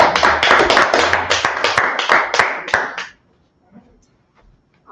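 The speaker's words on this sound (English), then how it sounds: "Clap it up for the class." A class bursts into a round of clapping, a crowded spread of sharp hand claps close by that runs for about three seconds and then stops abruptly into near silence.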